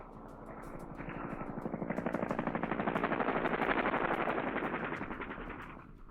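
Cobra attack helicopters circling above a landing zone fire their guns in long, rapid bursts over a steady rotor and engine drone, the rattling volleys swelling louder mid-way and then fading.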